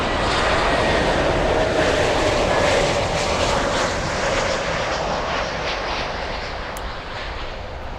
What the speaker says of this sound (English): Delta's 811 flying in from Los Angeles International.